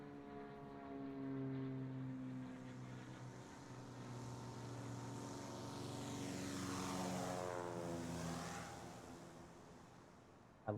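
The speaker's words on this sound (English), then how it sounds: "I love the sound of these planes." Propeller airplanes in the airport management game Airport CEO drone steadily, one passing with a clear rising then falling pitch sweep as it goes by, moderately loud with no talk.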